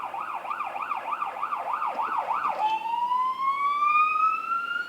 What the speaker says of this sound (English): There's always ambulances.